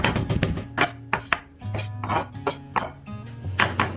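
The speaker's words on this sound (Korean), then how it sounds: "난타하듯이 신나게 다져주세요" Pork belly being minced with a knife on a cutting board for japchae, a fast run of sharp, loud chopping thuds in uneven bursts, with faint background music underneath.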